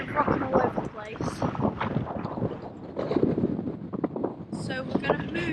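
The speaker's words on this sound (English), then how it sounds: "So it's like really, really windy currently, and we're kind of rocking all over the place." Strong wind buffets a sailing boat rocking hard in rough weather near the Solent coast, a steady roar of gusts and rushing water with creaks and knocks, while people talk nearby throughout.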